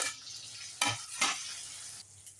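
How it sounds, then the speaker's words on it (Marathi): Tomatoes tipped into a frying pan of onions and ginger-garlic paste for shev bhaji, a couple of sharp scraping stirs and a quick hiss over a soft background sizzle, close and fairly quiet. "आत्ता घालूया टोमॅटो"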